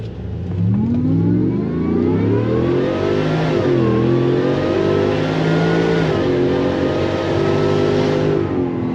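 A 2019 Ford F150 with a Whipple supercharger and deleted muffler launches hard from a standstill, its engine roaring loud and close as pitch climbs through rising gear sweeps with a supercharger whine over it.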